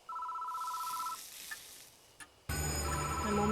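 A telephone ringing in the horror video game Death Mark, with a clear electronic ring tone for about a second, then a few faint blips, followed by a sudden loud droning tone.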